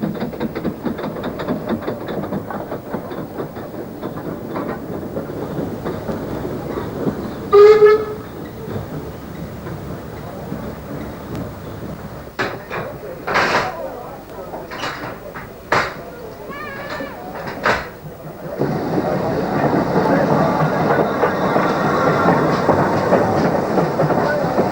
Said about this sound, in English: Guest loco, the 14XX class Great Western Railway from Didcot, is carefully dusted by Colin Edwards.